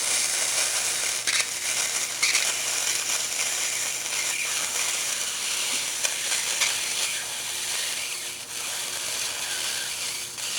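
Oxy-fuel cutting torch slicing through thin sheet metal of a Model T radiator, a steady loud roaring hiss with crackling and sputtering throughout, close and continuous with no voices.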